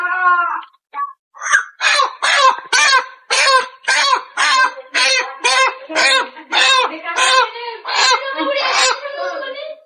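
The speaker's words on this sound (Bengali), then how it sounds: "দেখতে পাচ্ছেন মুরগি দুটো কেনা হয়েছে এই যে মুরগি দুটো বার করা হচ্ছে" Chickens bought at a Sundarbans village market clucking and squawking loudly up close in a rapid series of repeated, strained calls, nearly continuous for several seconds.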